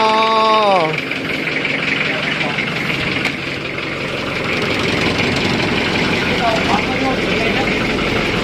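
Nissan pickup truck engine running steadily at close range, a continuous low rumble with someone talking over it throughout.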